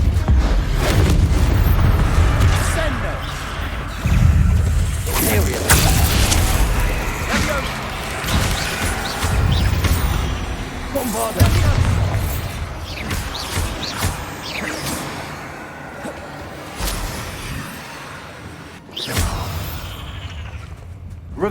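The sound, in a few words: Levioso and Depulso spell effects in the video game Hogwarts Legacy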